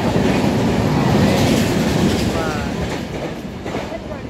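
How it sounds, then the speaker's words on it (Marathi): A passenger train rolls into a station, a heavy close rumble with clattering wheels and faint squeals that gradually eases as it slows. "चलो चलो, आपली ट्रेन आलेली आता,"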